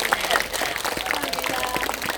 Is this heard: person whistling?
no